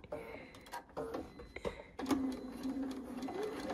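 A sewing machine stitches quilt pieces for a stars and stripes quilt, first in short stop-start bursts, then running steadily and close from about two seconds onward.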